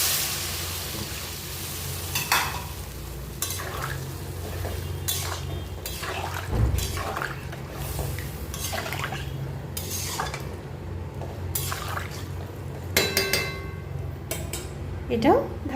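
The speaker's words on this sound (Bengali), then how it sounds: "আমি দিয়ে দেবো জল।" In a frying pan of vegetables for a thin fish curry, repeated sharp scrapes and clatters of a spatula and pot join a background sizzle, with a surge of bubbling as water goes in, while someone talks between the knocks.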